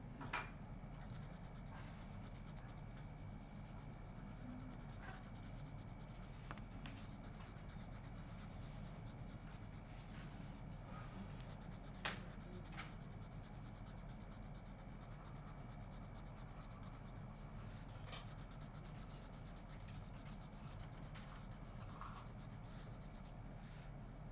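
Colored pencil scratches and rubs softly across paper while a wooden heart cut-out is being drawn, a faint continuous shading texture with occasional sharper strokes and small taps, and no talking.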